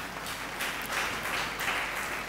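A church congregation at a Tamil Christian Bible study applauds, giving a dense, even wash of many hands clapping together that holds steady throughout, moderately loud.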